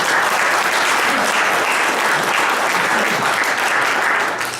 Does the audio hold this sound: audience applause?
yes